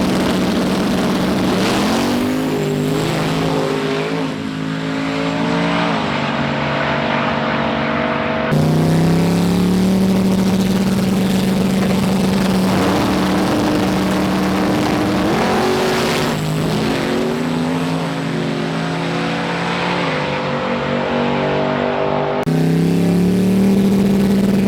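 A drag-racing truck's engine revs hard and loud through repeated passes, the pitch climbing steadily with each run and dropping between them, a continuous roaring drone with no voices.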